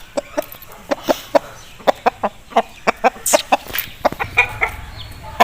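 A Topla Aseel rooster gives a rapid series of short, sharp clucks, about twenty close pulses in an uneven rhythm, loud against a quiet background with no talk.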